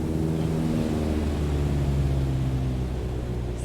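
A single-engine airplane in Microsoft Flight Simulator 2020 drones steadily with the power cut, a loud, continuous low hum with layered tones and airy noise and no speech.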